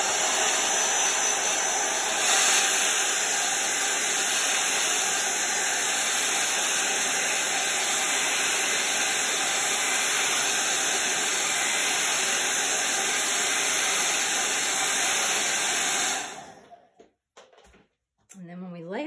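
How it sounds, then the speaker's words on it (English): A blow dryer drying a chalk transfer runs loud and steady with a constant whooshing hiss, then cuts off near the end, followed by brief faint sounds. "we're going to grab the blow dryer."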